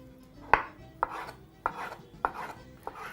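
Chicken pieces are cut with a knife for a stir-fried rice dish: five evenly spaced, crisp chops land against the board at a steady pace, close and clear with no talking.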